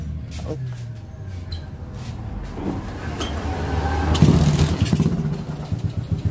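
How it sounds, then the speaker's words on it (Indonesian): A motorcycle engine with weak power sputters to life and revs up, clattering and growing louder toward the end, with a voice talking over it. "di sini kita coba untuk menghidupkan motor ini"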